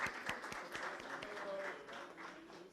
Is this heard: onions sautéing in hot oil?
no